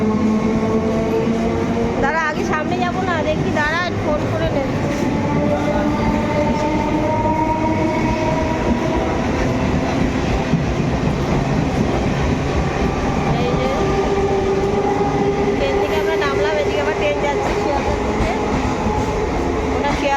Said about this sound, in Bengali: এই যে এখন ট্রেন যাচ্ছে দেখতে পাচ্ছি